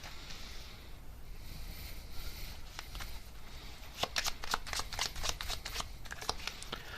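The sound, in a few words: tarot cards being shuffled and drawn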